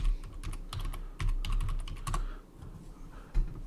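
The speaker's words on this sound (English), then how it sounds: "And I just type that in and hit enter." Quick bursts of keystrokes on a computer keyboard, close and crisp, a run of rapid clicks followed by a pause and a final firmer tap, like pressing enter.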